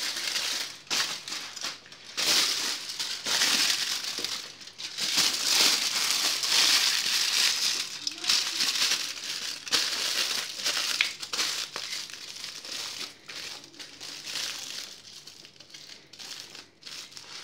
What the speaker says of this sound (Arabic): وهنبتدي نلف اللزق بالشكل ده